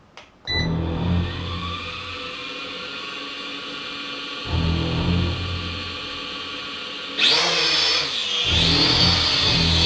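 Helicute H818 quadcopter motors start abruptly and whine steadily, with a pitch rise around the middle and a sharper, higher surge near the end as the throttle changes. The sound is close and fairly loud, with no talking.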